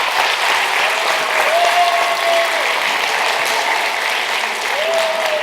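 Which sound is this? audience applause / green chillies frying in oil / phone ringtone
audience applause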